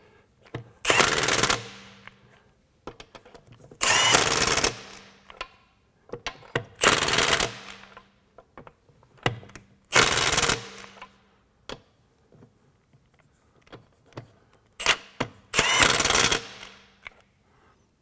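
Milwaukee M18 FUEL 1/2-inch extended anvil controlled torque impact wrench tightening lug nuts in a star pattern: five loud hammering bursts, each about a second long, with quiet pauses and small clicks between them.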